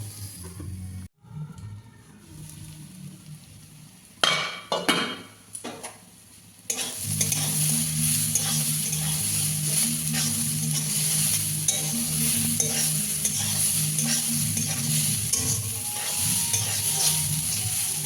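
Chickpea greens cook in a little oil in a covered pan over medium-low heat. After a quiet stretch broken by a few clatters as the lid comes off, a loud, continuous sizzle follows, with stirring scrapes.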